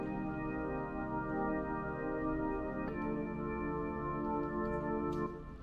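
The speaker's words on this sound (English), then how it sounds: "Next we have an electric organ." An electric organ sustains a held chord for several seconds in a pop beat, its steady tone changing chord once partway through, soft and smooth with no other instruments.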